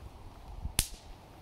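A single snap pop firecracker from a red box bursts with one sharp crack midway, short and bright against a quiet background, alone without voices.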